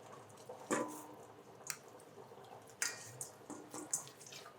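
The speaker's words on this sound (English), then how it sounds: "I am going to soak this cheesecloth with this bourbon." Bourbon is poured and squeezed into cheesecloth, giving faint, close wet squelches and drips that come in several short, separate bursts over a quiet background.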